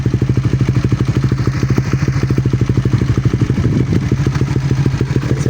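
A 2024 Suzuki Raider 150 fuel-injected motorcycle with a loud aftermarket power pipe exhaust idles and revs, producing a rapid, throaty pulsing rumble throughout, close and steady with no talking.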